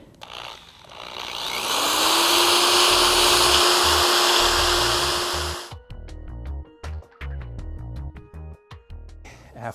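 A power tool, likely a grinder, working metal on a trailer tongue for a swing-away conversion: it spins up to a loud, sustained high whine, holds for a few seconds, then cuts off, followed by scattered clanks and handling noises.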